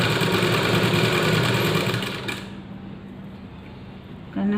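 An electric sewing machine stitches piping onto a kurti, running steadily and loud for a little over two seconds before stopping, leaving a quieter hum with a brief whir at the very end.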